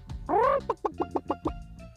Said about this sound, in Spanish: oyó desde un charco cacarear a una gallina.